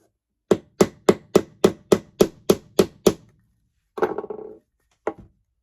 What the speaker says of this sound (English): Let's grab a hammer. Tap that thing down, then that sucker ain't going nowhere.